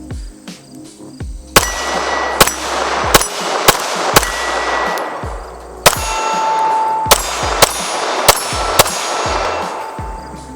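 Loud gunshots from a Zev Technologies OZ9 compensated 9mm pistol, about a dozen sharp cracks fired in uneven bursts with short pauses, each followed by a ringing metallic echo at an outdoor range.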